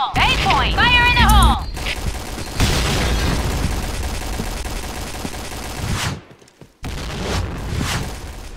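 In an online shooter clan match, a grenade blast and rapid bursts of gunfire roar close and loud, with a quieter pause and then renewed firing, as players shout over the action.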